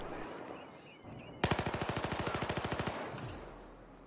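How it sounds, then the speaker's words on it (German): MX4 rifle firing in Battlefield 4, a sustained burst of about twenty rapid, evenly spaced loud shots lasting around a second and a half, preceded by quieter game ambience and followed by a brief fading tail. "dieses MX4, das ist schon ein hässliches Gewehr hier"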